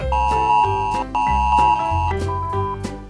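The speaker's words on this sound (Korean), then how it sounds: "핸드폰 세개 써서 세개다 경보네" Several mobile phones sound an emergency disaster alert tone at once, loud overlapping two-note electronic chimes repeating in a rapid pulsing pattern.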